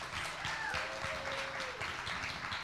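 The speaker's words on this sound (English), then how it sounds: "One more big round of applause." Audience applause at the close of a national wheelchair pageant competition, a continuous, fairly even wash of clapping at moderate distance, with no talking over it.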